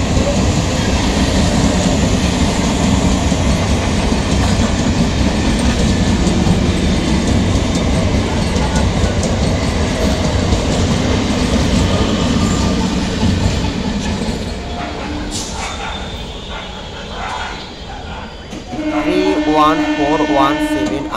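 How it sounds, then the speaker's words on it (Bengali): The 31417 Up Sealdah–Naihati local train rolls through Shyamnagar railway station at platform 2 with a loud, continuous rumble and wheel clatter that eases toward the end, where a tonal whine rises over the fading noise. "31417 আপ শিয়ালদা নৈহাটি লোকাল"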